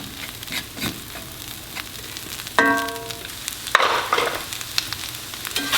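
Tempeh browning in an oiled pan over high heat, crackling with a constant loud sizzle, broken by spatula scrapes and clatter and a brief squeal midway.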